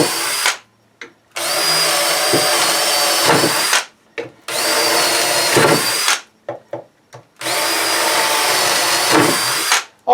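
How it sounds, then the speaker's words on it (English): A power drill runs in three long bursts, whirring loudly as it bores holes into wood for wooden loading ramps, with brief pauses between each hole. "So we'll just drill these holes out and we're almost done."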